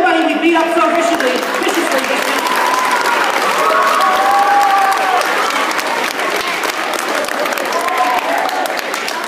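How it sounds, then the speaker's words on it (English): Sustained, loud applause from a live audience, with scattered whistles and cheers, at the close of a motivational talk by a blind speaker. "give a nice round of applause to everybody we beat up so viciously"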